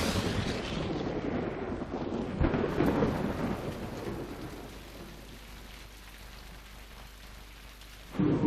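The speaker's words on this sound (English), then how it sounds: "Tropical storms lash the planet." A tropical thunderstorm with heavy rain, a loud rolling rumble of thunder over a constant roar of downpour that eases slightly before swelling again at the end.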